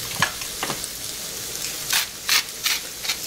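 Mushrooms fry in a pan under a quiet, steady sizzle, broken by several sharp scraping bursts as a utensil stirs them around, close and clear with no talking.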